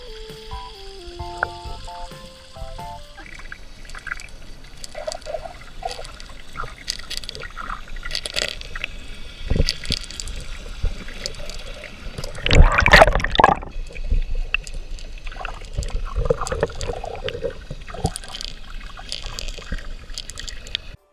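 A MirrOlure Catch 2000 fishing lure rattles underwater in a pool, giving soft, muffled clicking and knocking amid watery movement, with a louder burst of rattling near the middle.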